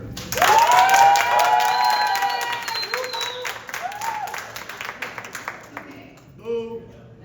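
Audience at a District 4 candidate forum breaks into loud applause that peaks and then trails off into scattered claps, while a voice speaks over the fading clapping.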